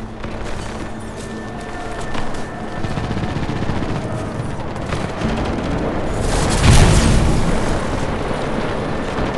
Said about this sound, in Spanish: ¡Nos están disparando!